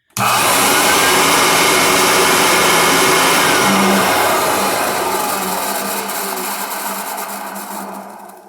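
A loud Kirby model VII vacuum cleaner whirs steadily at close range, a harsh roaring drone with gritty scratching and rattling, gradually easing in level toward the end.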